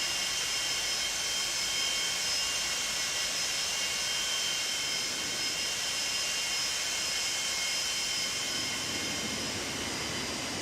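Jet engine roar from a simulated Boeing 747-200 in X-Plane 11, thrust reversers deployed on landing: a steady, loud broadband rush with high whine tones, continuous throughout, swelling slightly in low rumble near the end.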